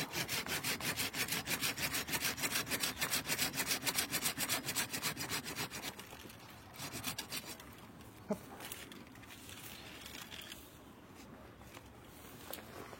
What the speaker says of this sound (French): avec la scie arboricole, la coupe est bien nette